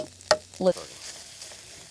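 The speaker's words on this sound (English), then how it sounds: "We're adding the egg." An egg dropped into a GreenPan camping pan gives a brief sizzle and scrape of frying, a couple of short close bursts followed by a quiet, steady crackle.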